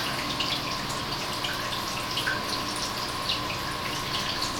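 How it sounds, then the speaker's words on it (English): Tap water runs steadily into a sink while a freshly cleaned trout is washed, a continuous close hiss with faint drips, no talking. "So I'm going to wash the fish here."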